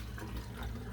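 Water drains from a pot of purple yarn dye, a steady full rush of pouring liquid that runs loud and unbroken throughout, with no voices.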